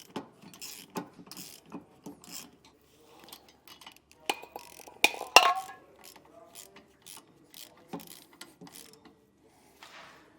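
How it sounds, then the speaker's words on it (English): Wrenches tightening bolts on a DeeMaxx disc brake kit for a 2025 Grand Design trailer, with scattered metallic clicks, ratcheting and clanks in irregular bursts, one louder knock near the middle, close and otherwise quiet. "And then we'll just start tightening down each of these bolts."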